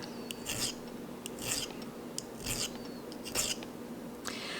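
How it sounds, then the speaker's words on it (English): A metal hand file rasps across the bezel and bottom plate of a handmade bezel-set stone stacker ring, five or six separate strokes in a steady rhythm, close and fairly quiet. "you see that it's actually not only filing that bottom plate, it's starting to file the bezel"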